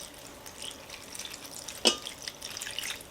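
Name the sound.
pouring a cup of water into an Instant Pot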